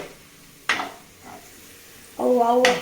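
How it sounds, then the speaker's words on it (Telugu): Paneer fried in a pan until golden, with a couple of sharp stirring scrapes and a sizzle that rises near the end, close and fairly quiet. "బాగా ఫ్రై చేసుకోవాలి"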